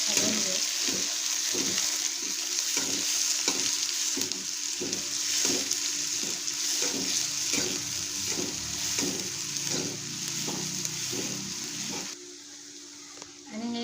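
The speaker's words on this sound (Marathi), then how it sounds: "आणि कांदा टाकून घेऊया हे सगळं आपण" Onion and chili frying in a pan give a steady, close sizzle throughout, with rhythmic stirring scrapes repeating regularly before the sound drops away near the end.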